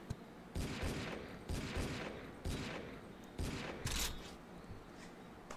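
Repeated bursts of video game gunfire in a strange mutant-filled action game, loud sharp volleys firing in clusters over roughly six seconds with no talk.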